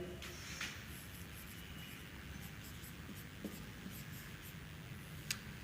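Steady pen scratching on paper across the span, faint and close against a low room hiss, with a couple of brief taps as the pen lifts and touches down.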